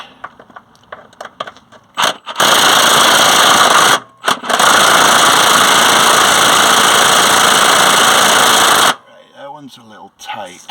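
A pneumatic air gun works a nut on a Volkswagen T4 suspension. It gives a brief burst, then a long, loud, steady hammering whirr of several seconds close up, with quieter handling noise around it.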